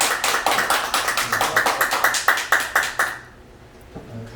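A small audience at a lecture gathering claps in a fairly rhythmic, moderately loud burst that stops abruptly after about three seconds, leaving quiet room tone.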